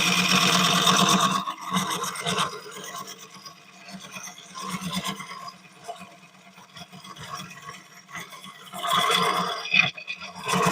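Wood lathe taking a roughing cut on a burl bowl, a loud, harsh rasping scrape in bursts that fades to quieter intermittent scraping mid-clip, then surges loud again near the end.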